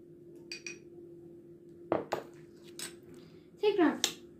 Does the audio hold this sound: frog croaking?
no